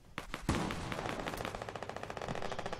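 Rapid automatic gunfire in a PS4 shooter video game: dense, repeated bursts of shots in a fast, uneven rhythm, loud and close, with no talking.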